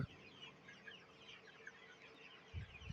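Desi chickens cluck faintly and intermittently on a poultry farm, with soft low thumps near the end.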